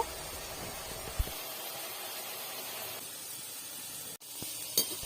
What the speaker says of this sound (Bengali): লাল লাল করে ভেজে নেব এই আলুগুলো